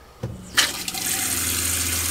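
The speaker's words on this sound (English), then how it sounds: "turn the cold water on" Cold water gushes from the tap into an RV kitchen sink in a Coachmen camper during freshwater tank sanitizing, starting with a couple of clunks and then running steadily and loudly.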